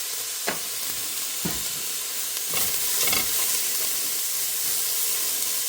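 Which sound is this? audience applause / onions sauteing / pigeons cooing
onions sauteing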